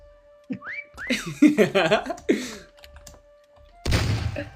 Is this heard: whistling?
yes